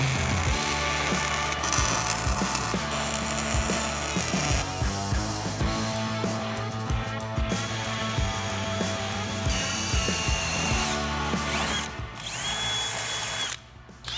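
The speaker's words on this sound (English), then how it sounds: "drill a hole through it." A power drill bores a hole through a metal bracket while a transmission is mounted to a Tacoma frame, running in steady whines with pitch shifts and brief stops, close and loud, no voices.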